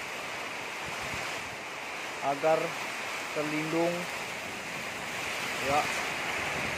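Strong storm wind roaring steadily in the open, a constant broadband rush like surf, with a person speaking briefly over it.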